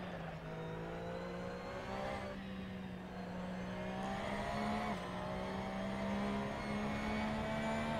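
A race car engine drones steadily around the Imola circuit in Assetto Corsa on PS4, a continuous whining tone that shifts slightly in pitch as it holds speed, with no voices.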